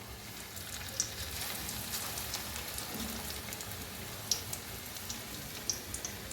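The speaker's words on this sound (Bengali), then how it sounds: "তো ঠিক আছে, বাকি যেটা আছে ওটাও কিন্তু আমি ভেজে নেব।" Food frying in a pan over a gas flame, a faint, steady sizzle with soft crackles and occasional sharp pops, no talking.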